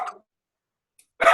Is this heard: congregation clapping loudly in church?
no